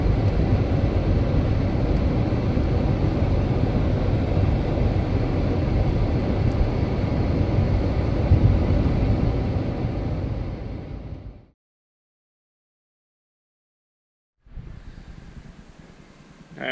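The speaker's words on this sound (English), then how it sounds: "Taking my truck on the way over to Jeff's garage here." Dodge Ram truck with a transmission fluid leak driving along, heard from inside as a steady low engine and road rumble for about eleven seconds, then a short silence before the drone returns.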